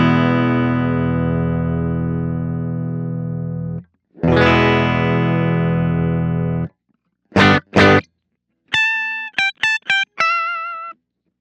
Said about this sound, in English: So here is my clean tone. I'm using a Fender Stratocaster with a humbucker in the bridge.